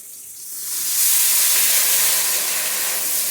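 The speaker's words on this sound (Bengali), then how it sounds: "এখন দিয়ে দিচ্ছি জলটা।" Water is poured into hot, cooked-down egg curry masala in a pan. It sets off a loud rising rush of steam and hiss that holds steady and close, with no talk.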